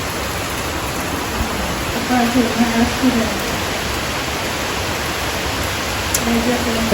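Steady heavy rain pours outdoors in Bengal during the Durga Puja season, a broad even roar of water that never lets up, with faint voices briefly audible partway through.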